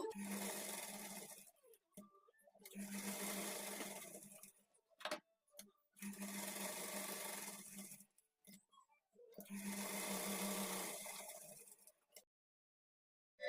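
Domestic sewing machine stitching darts on a blouse front, running in four steady bursts of several seconds each with short quiet pauses and small handling clicks between them.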